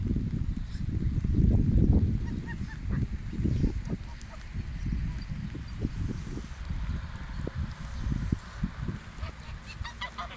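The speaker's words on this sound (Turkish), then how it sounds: "Evet arkadaşlar Umut'un kaz macerası" A flock of geese honking steadily and loudly nearby, with rain falling and outdoor noise in the background.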